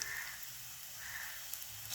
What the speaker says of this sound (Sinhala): සුදු ලුණු ටික යාන්තමින් බෙදලා එනකොට අබ ඇට තේ හැඳි කාලයි